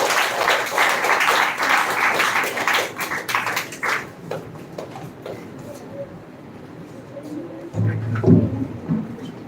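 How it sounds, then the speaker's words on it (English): A speech competition audience applauds loudly for about four seconds after a speaker is introduced, then the clapping thins to scattered claps and faint room noise, with a brief voice or bump near the end. "So please give a huge round of applause for Mr. Salman."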